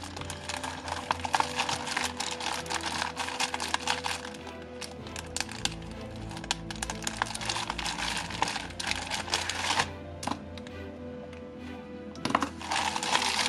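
A plastic foil bag holding model kit parts and a folded instruction sheet is torn open and handled, with close, quiet crinkling, crackling and rustling and scattered sharp clicks across the whole stretch, with no speech.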